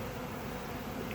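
A steady, dense insect buzz of a honey bee swarm fills the moment, like many bees humming together nearby.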